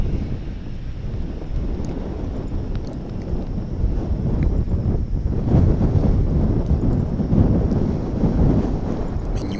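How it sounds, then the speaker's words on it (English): Gusting southwest wind at Dallas/Fort Worth International Airport buffets the microphone with a continuous low rumble that swells stronger in the second half, with faint distant aircraft noise underneath. "you can definitely see the flags now coming to attention as the wind picks up from the pretty much the southwest"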